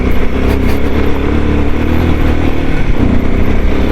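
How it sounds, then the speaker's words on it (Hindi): A motorcycle rides downhill on an off-road mountain trail. Its engine roars loud and close, with a continuous rumble and clattering from the rough ground throughout. "मैं तो भगाता हूँ भाई ऑफ रोड में। यही तो मज़ा है इस बाइक का।"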